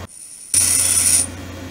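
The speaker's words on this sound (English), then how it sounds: "See how it's grinding more on the bottom?" A 60-degree threading tool is ground by hand on a grinder, with a harsh, steady rasping hiss that starts abruptly after a near-silent moment, lasts under a second, and then drops back to a lower hum.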